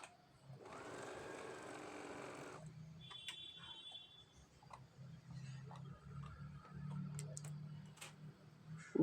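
Sewing machine stitching an orange fabric strip onto a patchwork pillow cover, a brief close whirring burst of about two seconds, followed by quiet ticks, clicks and faint room noise.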